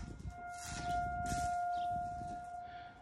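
A steady, droning siren holds one tone for a few seconds, swelling slightly louder midway, with faint background noise.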